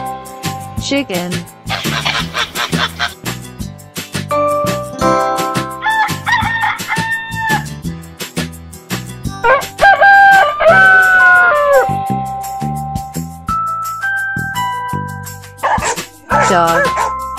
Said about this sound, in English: Chicken. Chicken.